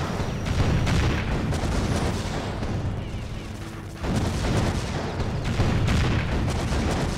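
Turret gunfire in the Defense Grid tower-defense video game, a dense, loud, continuous barrage of booming shots and blasts with a brief dip midway before resuming at full intensity.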